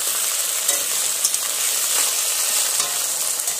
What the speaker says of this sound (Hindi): इसमें ऑयल थोड़ा ज्यादा लगता है, अभी ये फ्राई होगा कुछ देर तक